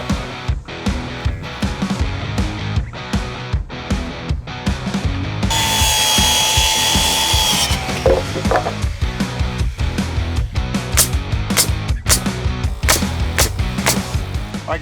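A power saw cuts lumber for a header while framing the floor system of a garage build. It gives one loud, sustained cutting whine of about two seconds, surrounded by repeated close knocks and handling clatter.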